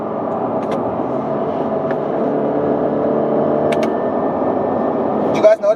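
Engine of a 2019 Subaru Impreza Hatchback Limited with a CVT, a steady drone heard from inside the car that dips and shifts near the end as it steps down through simulated gears, with talk over it.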